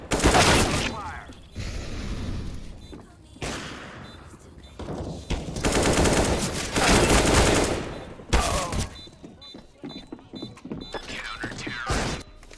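Video game gunfire in a bomb-defusal shooter match, bursts of loud rapid shots and rattling fusillades separated by short gaps, with mechanical clanks and a brief shattering crash among them.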